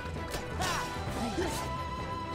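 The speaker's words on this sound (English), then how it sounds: "Just Rock Shatter it." A rock shatters in the video game Kingdom Hearts 2, a quick crash and crumble of stone with a bright whooshing magic effect layered over steady game music.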